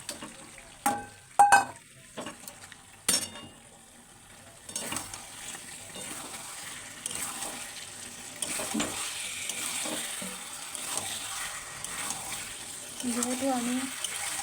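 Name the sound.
meat being added to fried masala in pan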